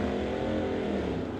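At a drag strip at Mission Raceway, a Camaro and a Malibu run the quarter mile, heard as a loud, steady roar of engines at high revs that stays close for the whole stretch, with no voices.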